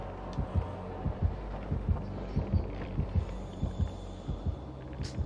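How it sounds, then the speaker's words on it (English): A steady, pulsing heartbeat from the Nemesis killer's terror radius in the video game Dead by Daylight, thumping in a regular double-beat rhythm, strong and close, under a low ambient hum with no talk. "Strong heartbeat, like in the vicinity of the gens."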